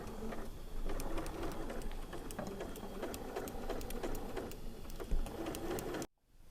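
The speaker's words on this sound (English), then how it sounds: "So now we have sewn our 4 corners together, and next we will sew this seam" A sewing machine stitches quilt corners together for a cactus spinning star block, a close, continuous rapid whirring hum with a steady needle rhythm that stops abruptly near the end.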